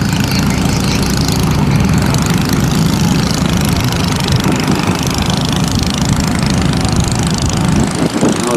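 The inboard engine of a Vietnamese ghe bầu wooden boat drones loudly and continuously while cruising on the water toward Hà Tiên, a steady, close, rumbling chug with no talk.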